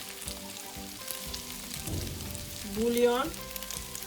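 Garlic sizzles softly in hot oil at a moderate level, a light crackling fry that swells briefly near the end, with a single spoken word over it.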